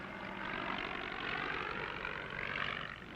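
An old World War I Spad biplane drones overhead, its propeller engine a steady, broad roar that swells and fades slightly as it passes.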